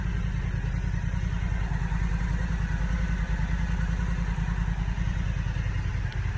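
Several motorcycles idle together early in the morning before a long ride, a steady, close low rumble with faint mechanical clatter running continuously and no talking.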